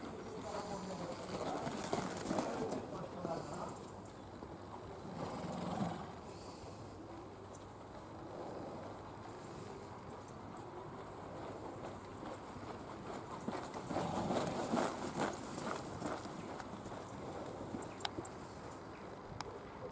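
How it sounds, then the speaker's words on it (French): Horse at a slow working trot in a riding lesson: a faint steady clip-clop of hooves with some surrounding noise, heard from a distance and without talking. "Revenir au trot de travail, le petit trot lent."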